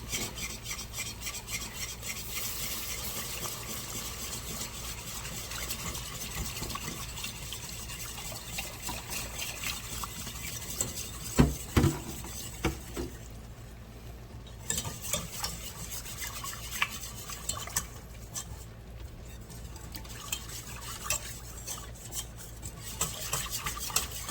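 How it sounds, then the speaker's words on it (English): Cold milk being whisked into a smooth roux for Southern-style collard greens, a steady scraping, rasping whisk against the pan running throughout, close and continuous with a few sharper knocks midway. "Now, what we're gonna do is now, slowly start whisking in some cold milk."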